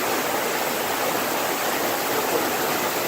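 Waterfall at Puente de Dios in Mexico's Sierra Gorda, a loud, steady, close roar of falling water that stays unbroken throughout, with no voices.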